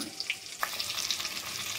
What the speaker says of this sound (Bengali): পনির আমার ভাজা হচ্ছে।